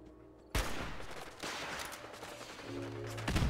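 Gunfire bursts from the video game Fallout 4, a sudden loud barrage starting and continuing in dense, rapid volleys with a sharp blast near the end, no speech over it.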